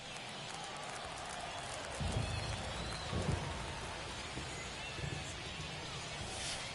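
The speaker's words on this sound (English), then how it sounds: "We'll see how well the field holds up with the way the rain is coming down." Steady heavy rain hisses over a baseball field in The Show 24, a dense constant wash of sound with a few low thumps and faint talk underneath.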